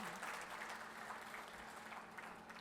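Steady applause from an audience at a community celebration program in Gujarat, a dense, even patter of many hands holding at a constant level, with a faint electrical hum underneath.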